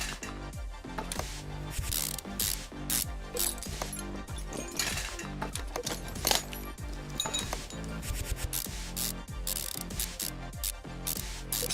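Rapid mechanical ratchet clicks and metallic clatter from tightening U-bolts on a leaf spring in the Car Mechanic Simulator 2015 game, repeating in quick bursts over a dense, continuous background.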